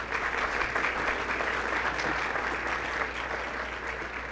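Steady applause from an audience at a dedication ceremony, sustained and dense throughout without a break, with no voices standing out above it.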